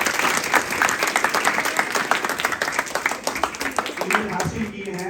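An audience at a quiz competition applauds a team in dense, sustained clapping that runs steadily for several seconds before a voice begins speaking as it fades.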